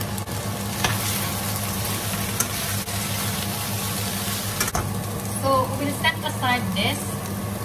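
Celery and carrots sizzle steadily in a hot pan for pansit guisado with a constant hiss, punctuated by a few sharp clatters of stirring and a brief voice-like sound near the end.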